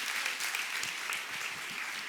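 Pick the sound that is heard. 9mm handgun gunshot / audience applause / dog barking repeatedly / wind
audience applause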